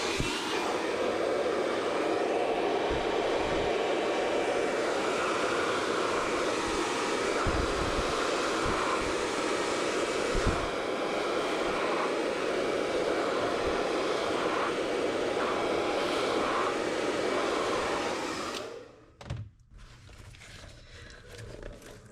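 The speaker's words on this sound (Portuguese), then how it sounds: "com o auxílio do secador." A hair dryer blows in a loud, continuous roar for most of the clip, used while crafting a small handmade bag, then switches off near the end, leaving faint handling noises.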